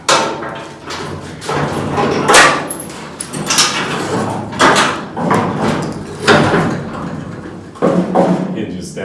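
A fabricated truck tailgate swings open and shut several times, giving repeated heavy metallic thuds and clanks at close range, with someone talking over the noise.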